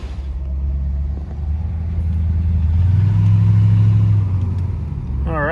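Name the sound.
El Camino with 3.73 gears driving off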